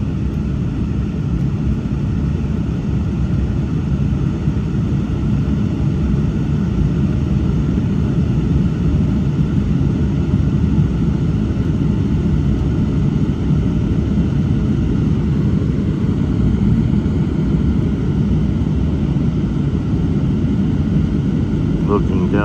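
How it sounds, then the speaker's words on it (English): A Porter Airlines Embraer E195-E2 jet climbs out after takeoff from Winnipeg, heard from inside the cabin as a loud, steady engine roar and rumble throughout. "We just took off from Winnipeg,"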